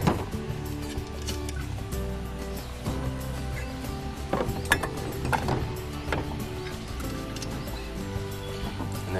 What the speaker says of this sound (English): And then take your wrench and just tighten down those legs there.